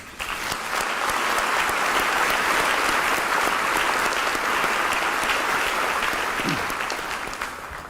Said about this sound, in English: let's give our entire health community a round of applause.